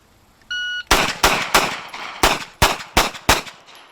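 Gunshots on a shooting range, a rapid string of eight sharp close shots after a brief electronic start beep, fired in quick succession with slight irregular spacing.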